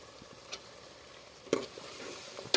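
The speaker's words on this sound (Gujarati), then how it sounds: "હવે નાખવાનું છે આપણે એની અંદર રીંગણા." Eggplant pieces dropping into hot oil with chili in a pan, giving a steady close frying sizzle with a few sharper stirring clatters.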